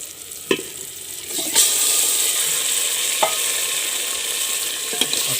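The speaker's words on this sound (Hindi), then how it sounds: "चलिए अब इसमें चिकन डाल लेते हैं।" Chicken sizzling in a pan with browned onions, steady loud frying hiss with occasional sharp clinks and stirring scrapes.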